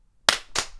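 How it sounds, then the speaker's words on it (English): Two sharp hand claps ring out alone, close and crisp, about a third of a second apart in a quiet room. "Clap whenever."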